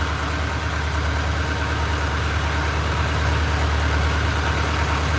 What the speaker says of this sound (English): I like to listen to the engine.